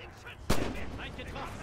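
A single sharp gunshot bursts out of a busy battlefield din in Red Orchestra 2, with muffled distant firing and voice-like chatter under it.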